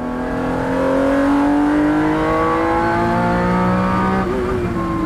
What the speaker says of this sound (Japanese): さらに2速へ落としてアルナージュを抜ける。